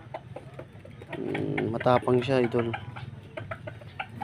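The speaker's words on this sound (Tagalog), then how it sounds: "Nilalabanan niya yung isang inahin." Hens cluck and squabble up close as one hen fights another, with a rooster-like call rising among the scuffle while someone talks over the birds throughout.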